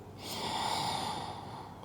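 A slow exhale through the nose during yoga, a single soft breathy rush that swells and fades, close and quiet.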